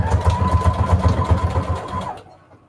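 Sewing machine stitching paper ruffles onto index cards, a steady rapid mechanical chatter of needle strokes running for about two seconds before stopping, close and fairly loud with no talking.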